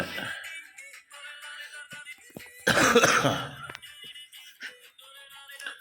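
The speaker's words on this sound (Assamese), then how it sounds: "অলপ কাহ হৈ আছে।" A single harsh cough bursts out near the middle, loud and close, amid quieter kitchen sounds of chicken curry being cooked with potatoes and ginger-garlic paste.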